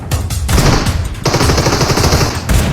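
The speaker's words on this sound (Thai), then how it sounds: "กูยิงตายคารถเลย" Rapid automatic gunfire from the mobile battle-royale game PUBG Mobile, loud and close, rattling in dense continuous bursts with brief gaps, and no talking over it.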